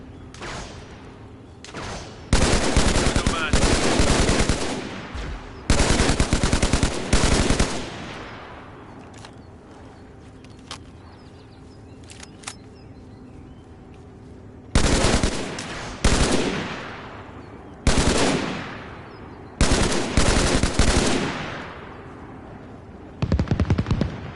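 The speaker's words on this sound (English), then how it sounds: "battle rifle is an unhinged weapon." Halo battle rifle fire in an Arma Reforger mod crackles in loud, rapid bursts, several sustained volleys split by a quiet lull with faint distant pops, then more clipped bursts close by.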